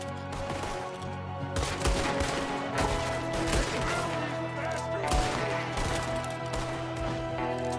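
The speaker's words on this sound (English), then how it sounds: "There's another one shooting from the window." Rapid gunfire from an enemy shooting out of a window in Red Dead Redemption 2, with repeated loud shots crackling over a dense game soundscape of music and ambience throughout.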